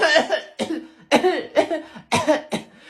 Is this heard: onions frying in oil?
no